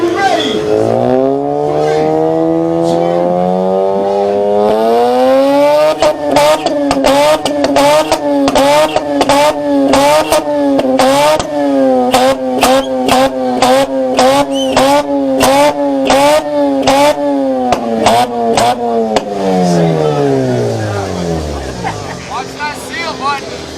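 A loud Mazda RX-7 rotary engine revs at a 2-step contest, holding a steady high drone. Rapid popping limiter bangs crackle over it for most of the stretch before the revs fall away. Voices are audible in the crowd.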